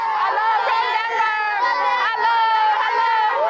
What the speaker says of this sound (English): Hundreds of villagers crowd around our car.